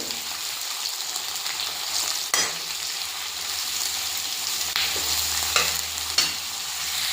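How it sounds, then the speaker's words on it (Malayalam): Onions and tomatoes sizzle steadily in a hot pan while a utensil stirs them, with a few sharper scrapes and clinks against the pan breaking through the continuous close frying hiss; no voices. "സബോളയും തക്കാളിയും ഇട്ട് കഴിഞ്ഞു ഇനി ഇത് നന്നായിട്ട് ഇത് മൂത്ത് വന്നു കഴിഞ്ഞാൽ"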